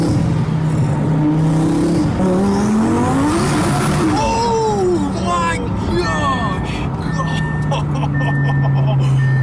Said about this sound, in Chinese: 然后又猛地踩下油门。